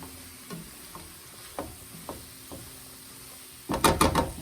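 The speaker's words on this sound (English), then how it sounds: "I'm going to add my cauliflower, the whole bowl. I'm going to give this a good stir." Cauliflower rice with mushrooms is stirred in a pan: a few scattered scrapes and soft clicks over a faint low sizzle, then a louder burst of stirring and sizzling near the end, close and fairly quiet.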